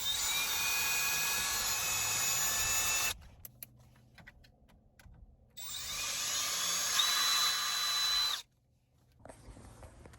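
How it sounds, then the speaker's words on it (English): A power drill bores a pilot hole for a RAM phone mount in a Toyota 4Runner, two sustained whining runs with pitch shifts separated by a quieter pause, close and loud. "I'll start by drilling a pilot hole."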